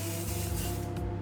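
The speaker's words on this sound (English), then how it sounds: "Hold this up and just spray." An aerosol can of cooking spray hisses in one steady, continuous broadband burst, close and loud, lasting just over a second without pause.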